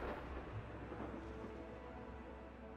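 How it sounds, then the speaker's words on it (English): A thunderstorm rumbles in the Total War: Warhammer 2 video game, a low rolling rumble over a steady hiss of rain, quiet and unbroken. "Does the storm prevent you from embarking?"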